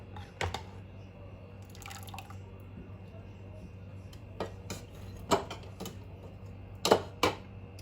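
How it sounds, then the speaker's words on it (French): Honey-soaked almond makroudh drain in a colander, letting off scattered faint drips and soft ticks against a quiet background, while a voice talks nearby. "Là, je les égoutte dans une passoire."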